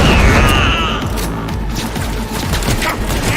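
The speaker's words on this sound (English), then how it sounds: "That's a grenade!" Grenade blast in the video game Cyberpunk 2077, a loud booming explosion layered with rattling gunfire and crashing debris, dense and continuous throughout with faint voices underneath.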